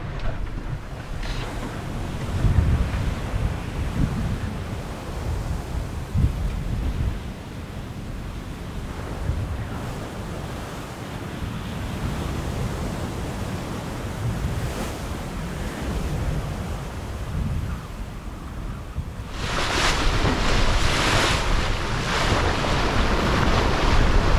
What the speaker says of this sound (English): So the wind has picked up a little bit.